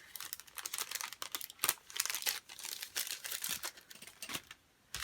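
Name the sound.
crinkling of a sticker package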